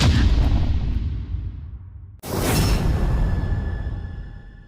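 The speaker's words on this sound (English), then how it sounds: "Dark Souls 3 Parry Sound" Dark Souls 3 parry in a video game: a noisy rumbling swell that fades, a brief dropout, then a sharp metallic clang with ringing high overtones that decays over a couple of seconds, with no voices.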